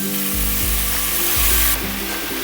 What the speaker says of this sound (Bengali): গ্যাসটা আমি এখন জোরে দিয়ে দেবো বন্ধুরা। দিয়ে খুব ভালো করে এবার ভাজতে হবে।